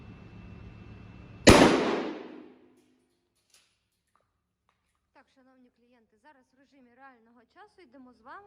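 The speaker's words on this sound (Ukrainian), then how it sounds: "стріляти будемо з відстані 20 метрів дріб'ю" A single loud shotgun blast firing birdshot at 20 meters cracks out over a low hum, its blast decaying over about a second, followed by silence and then someone talking.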